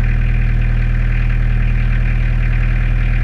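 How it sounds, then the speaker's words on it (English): A car engine runs steadily at raised revs during a charging-voltage check, a loud, constant mechanical hum with even low pulsing and no pause. "Give us some revs, there we go"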